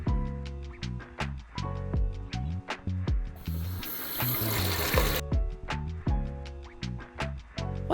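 Cold tap water runs for about two seconds as blanched orange peels are rinsed in a sink, a steady broadband gush set between harmonic, tonal music with sharp rhythmic hits that carries on throughout.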